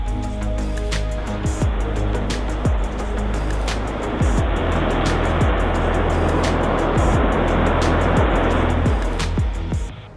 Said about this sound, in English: The pads deluge system kicked in just prior to the light-up of all 6 Raptor 2 engines.